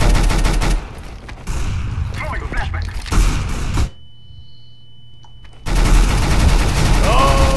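Rapid gunfire from a competitive Counter-Strike: Global Offensive match, with loud dense bursts and volleys that drop to a quiet lull midway before the shooting resumes at full intensity.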